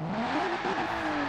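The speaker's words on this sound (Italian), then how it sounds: "Sentiamo il motore" Lykan Hypersport engine in Forza Horizon 4 revving steadily, a loud continuous roar with a slight rise and fall in pitch, heard alone.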